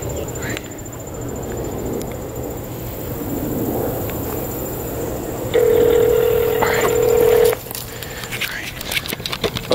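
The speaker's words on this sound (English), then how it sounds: "All right, so now I'm going to call him." A phone placing a call: brief faint dial tones at the start, then a steady electronic ringback tone lasting about two seconds near the end, with light handling noise and room sound around it.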